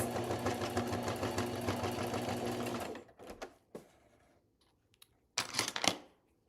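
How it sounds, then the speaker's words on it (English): A sewing machine stitches a micro-sequin album page in a fast, even whirring run that stops after about three seconds, followed by quiet handling noises and a short later rustle of paper. "then we'll stitch this in place, machine stitch it"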